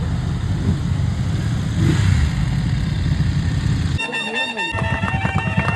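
A BMW motorcycle engine runs with a continuous low, close rumble, then gives way to high tonal honks and whistling toots near the end, with voices faintly mixed in.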